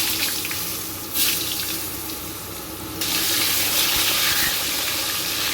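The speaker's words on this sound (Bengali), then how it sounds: "এরপরে একই তেলে আমি আলুগুলো ভেজে নেব।" Potatoes frying in oil left over from frying fish give a loud, continuous hiss and sizzle with no voices, the spitting growing brighter and stronger about halfway through.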